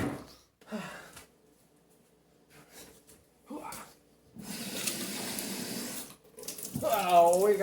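Water runs from a tap in a steady rushing stream for about two seconds, after several short splashes, with people talking at the start and end.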